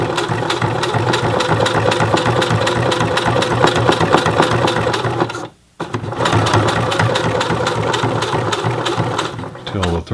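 A Singer Heavy Duty 6800C sewing machine stitches steadily at stitch length 4 with stiff thread, a fast mechanical clatter running loud and continuous, broken by one brief pause before the stitching resumes.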